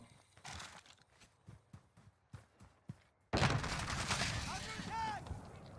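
Gunfire in the video game Modern Warfare: a run of sharp, evenly spaced shots, then a sudden loud, dense burst of shooting and explosions that carries on to the end, with no speech over it.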